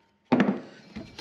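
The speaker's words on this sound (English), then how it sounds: "I've got a metal disc that's just perfectly the right size. And just tap it in." A metal disc is tapped into a trailer brake hub: one solid knock followed by a couple of lighter taps, close by and fairly loud.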